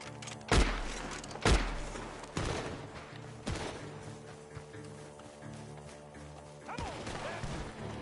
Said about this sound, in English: Gunshots are coming!